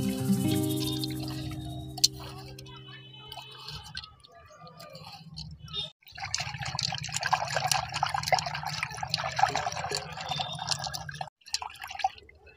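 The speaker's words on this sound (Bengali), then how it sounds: "তারপর আমি ভালো করে চটকে নেব।" Hands squelching and mashing a wet panipuri filling seasoned with chili powder and cumin, with soft sticky squishing and dripping sounds that run steadily and close, after a brief burst of music at the start.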